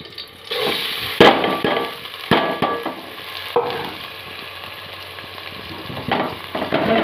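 Fried cashews and raisins go into a sizzling pan, giving a continuous frying crackle with several sharp clinks and scrapes of utensils at irregular moments.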